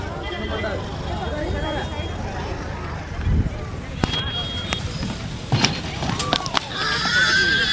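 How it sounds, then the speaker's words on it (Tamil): At a busy horse and cattle market by a temple, the last horse is unloaded from a vehicle, giving a short whinny and some hoof clops over background crowd babble and a voice. "இப்போ பார்த்தீங்கன்னா லாஸ்ட்டு குதிரை இதுலேருந்து இறக்குறாங்க."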